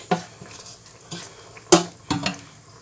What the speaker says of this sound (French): Donc ici, on rajoute le pourpier.